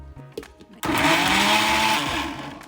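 An electric blender grinds onion, ginger, green pepper and garlic into a paste for chicken biryani. A few quiet knocks come first, then the motor kicks in with a loud, steady whirring grind that holds to the end.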